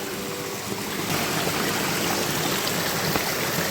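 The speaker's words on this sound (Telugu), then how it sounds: "ఇక్కడైతే చిన్న వాగుంది" A small forest stream runs over rocks along a jungle path, giving a steady close rushing and gurgling babble that holds even throughout with no voices.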